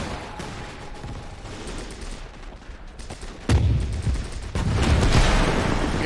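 Heavy gunfire and explosions from the Gates of Hell World War II strategy game, a 1941 Soviet defense outside Moscow: steady rattling small-arms fire builds into louder booming blasts toward the end, with no speech.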